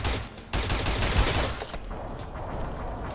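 Rapid, dense gunfire from the side-scrolling combat game Cortex Command: a sustained volley of overlapping shots that keeps up for over three seconds, loud and continuous with a slight easing toward the end.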